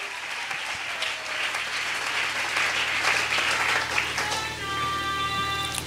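Congregation clapping steadily and loudly at a Sunday church service, dense sustained applause throughout with a sung or voiced tone emerging near the end.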